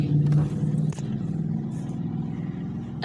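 A car travels along a country road in the Hudson Valley near Rosendale, New York, with a steady low engine and road hum inside the cabin and a few faint knocks and clatters.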